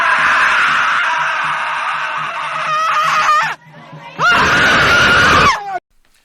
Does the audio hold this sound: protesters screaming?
yes